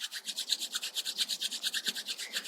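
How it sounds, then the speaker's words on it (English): Palms rubbed briskly together during a pranayama breathing practice, a quick, even rasping rhythm of many short strokes, quiet and close, with no voices. "Start rubbing your palms once again."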